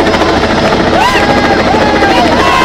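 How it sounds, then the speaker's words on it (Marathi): A helicopter circles overhead showering flowers at a crowded gathering, its loud, steady rotor chop thumping continuously close by while people talk and shout around it. "हेलिकॉप्टर अजून फिरत आपण जाऊ आता घरी"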